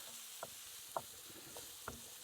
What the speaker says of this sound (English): see how nice and hot that pan is. Gives that sizzle that we want.